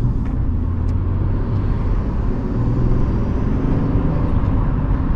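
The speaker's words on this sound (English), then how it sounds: "Beautiful induction whistle," BMW 540i xDrive fitted with a BMS Performance intake, heard from inside as a steady low engine drone under gradually building throttle, with a faint high induction whistle over the rumble.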